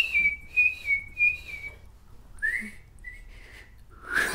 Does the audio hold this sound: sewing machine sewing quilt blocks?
no